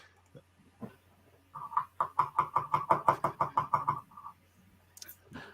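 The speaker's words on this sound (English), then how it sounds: "Knocking on Lexi's door" Knuckles knock on a door in a quick, steady run of about a dozen raps lasting a couple of seconds, fairly close and clear, with a faint voice before and after.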